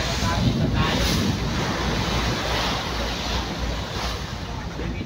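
Sea waves and strong wind heard from aboard a ship sailing between ports in Samar, a continuous loud roar of surf and buffeting wind noise throughout.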